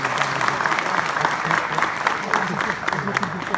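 An audience applauds a newly elected committee at an independence day celebration, sustained clapping from a crowd filling the space at moderate loudness.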